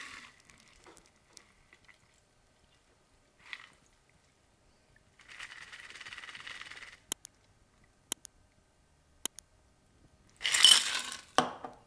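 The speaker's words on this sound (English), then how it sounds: "Now fill a Collins glass with ice and pour" Ice clinks into a Collins glass and a cocktail is poured over it, with scattered sharp clinks, a few seconds of soft pouring, more single taps, then a louder clattering burst near the end.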